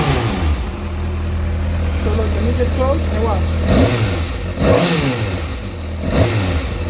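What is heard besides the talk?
Kawasaki ZX6R motorcycle engine revving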